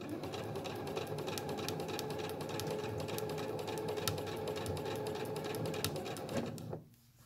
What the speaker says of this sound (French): un point d'arrêt, c'est-à-dire quelques points avant, quelques points arrière